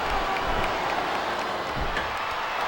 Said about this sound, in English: Wow, listen to that chant, Taz.